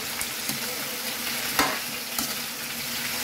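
Chicken feet frying in a pan, stirred with a utensil: a steady hiss of sizzling with a few scraping knocks, one sharper clack midway, close and moderately quiet, no talking.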